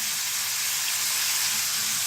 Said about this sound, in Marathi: फुलगोबी भाजायचं छान असं तेलात.